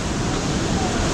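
Water pours steadily over a small weir-like waterfall at Sayan Falls in Bali, a broad, even rushing wash with no breaks, heard close and moderately loud.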